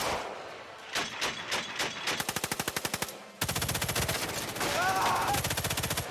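Gunfire from the shooter game Sniper Elite 5: a few separate loud shots, then fast automatic bursts of rapid, evenly spaced rounds, close and sharp, with brief pauses between strings and no talking.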